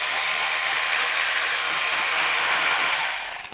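Steady, loud high-pitched whir of a power tool spinning a 10mm socket to remove a bolt on a 2007-2013 Chevy Silverado engine, running continuously before sputtering to a stop.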